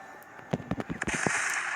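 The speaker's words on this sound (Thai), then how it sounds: "แล้วไงมันคือลูกซองดีๆ เลย" Shotgun blasts in a zombie horror video game, a quick series of sharp cracking shots followed by a loud sustained burst, heard close and alone.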